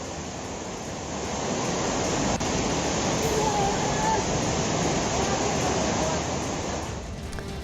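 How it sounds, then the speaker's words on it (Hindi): Floodwater rushing through the streets of Itanagar after rivers overflowed, a steady broadband roar of torrential flow that swells after the first second and stays loud and continuous throughout, with faint tonal sounds briefly audible over it. "नदियों का पानी ईटानगर की गलियों में भी घुस गया।"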